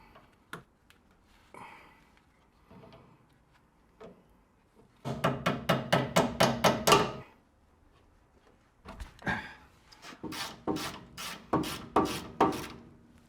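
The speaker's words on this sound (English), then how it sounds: "we'll start by getting this split pin out." A split pin is worked out of the steering linkage of an RA28 Celica with sharp metallic taps and clicks, first scattered, then quick rhythmic bursts of close, loud strikes, with short quiet gaps.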